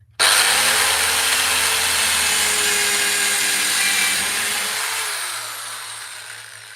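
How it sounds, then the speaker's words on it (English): A power drill fitted with a countersink bit bores into a piece of wood, one continuous close whine lasting several seconds that slowly fades and winds down. "Just put the countersink bit in."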